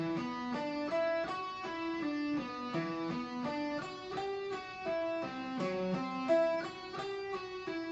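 A metal guitar lick is played slowly and cleanly, combining sweep picking, legato and alternate picking. Distinct notes step through arpeggio shapes in an even, looping rhythm, close and alone with no talking.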